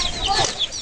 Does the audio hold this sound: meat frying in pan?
no